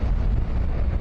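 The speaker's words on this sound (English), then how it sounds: "Very windy now." Loud, rushing wind noise battering the microphone during a motorcycle ride, a dense continuous roar with heavy low rumble and no voices.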